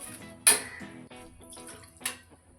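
Water is splashed into a rinsed kadai pan while beach-style masala sundal is cooked without oil. A loud splash is followed by softer trickling and a few metallic clinks, with a second splash near the end. No one speaks.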